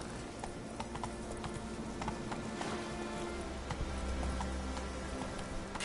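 Roach, a horse in The Witcher 3, gallops in a steady rapid clip-clop of hooves, moderately close, over a faint ambient game bed with no voices.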